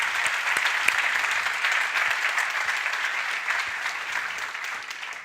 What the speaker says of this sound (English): So I think we should all kind of give them a round of applause